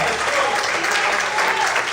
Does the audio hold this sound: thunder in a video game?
no